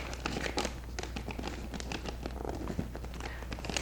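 Wrapping paper crinkling as it is folded for a gift, close and continuous crackly rustling with irregular sharp crinkles throughout.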